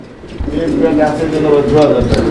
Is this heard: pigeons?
yes